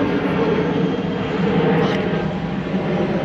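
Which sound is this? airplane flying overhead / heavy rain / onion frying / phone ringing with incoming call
airplane flying overhead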